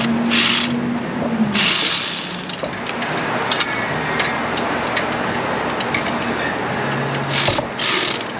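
A ratchet on a universal joint works the upper header bolts of a Ram 1500 5.7, giving close, rapid clicking in short bursts separated by pauses, over a steady background hum.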